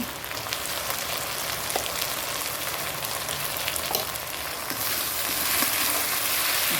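Onion paste hits hot oil already holding ginger-garlic paste and chilli, setting off a loud, dense, rain-like frying hiss that runs steadily and swells slightly toward the end.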